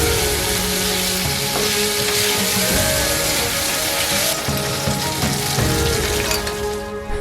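Chicken pieces frying over a medium flame for teriyaki chicken give a loud, steady sizzle that runs throughout, with brief stirring scrapes along the way and no talking.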